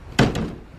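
The door of a backyard playhouse is pushed shut with a single solid thunk and a quick softer knock right after it, nearby, followed by a short fading rattle.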